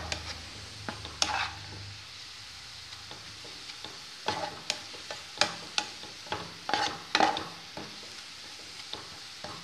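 Food frying in oil in a home kitchen for a curry, a soft sizzle under intermittent spoon scrapes and clinks against the pan, close by and fairly quiet, without speech.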